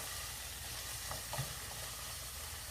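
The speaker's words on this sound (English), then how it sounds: "These are really starting to sizzle up now." A shrimp, chicken and vegetable stir fry sizzling and crackling in a hot skillet, a steady bright hiss with a couple of soft stirring scrapes, close up and without voices.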